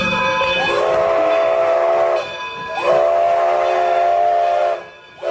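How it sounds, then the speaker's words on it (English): A steam train runs loudly with its whistle blowing, two long sustained whistle blasts over a continuous hissing rumble of the locomotive. "Steam-powered railroad cars,"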